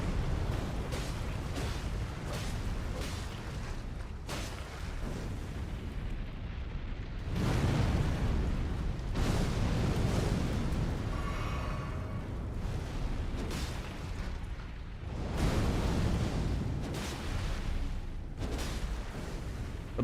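Bomb explosions in Elden Ring Shadow of the Erdtree, a series of loud, booming blasts about every two to three seconds, each rumbling over a continuous roar of battle noise.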